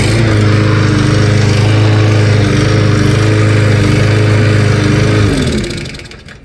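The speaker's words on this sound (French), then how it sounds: "Mon chum vient de réparer la tondeuse." A freshly repaired lawn mower engine runs loud and close with a steady droning hum, then winds down and cuts out near the end.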